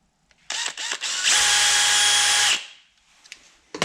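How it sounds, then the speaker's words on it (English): A power drill bores a small hole in a hard plastic speaker ring for a 2011-2019 Ford Fiesta front door. Short trigger bursts give way to one loud, steady whine of a little over a second, then faint handling noises. "I'm just gonna drill a small little hole there where I mark those holes."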